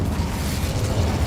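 The Incendio fire spell in Hogwarts Legacy gives a loud, continuous roaring burst of flame with a heavy low rumble, dense and unbroken for its brief length.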